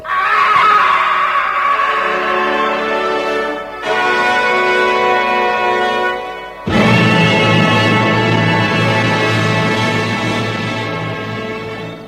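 An assassin screams in an audio drama, a loud, harsh, drawn-out cry in three long bursts with brief breaks, the last the longest, close and alone without talk.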